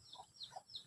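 Faint, quick chirpy clucks from a chicken, a few short calls in a row, heard at a distance.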